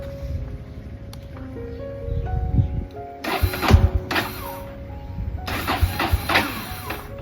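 A motorbike engine cranks over and catches on a cold day, with short bursts of starter and engine noise breaking through a low background rumble, fairly close by, with no talk.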